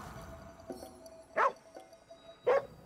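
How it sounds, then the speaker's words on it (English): A dog in the video game GhostWire: Tokyo gives two short, sharp yips or barks about a second apart over a quiet game ambience. "Oh, a dog."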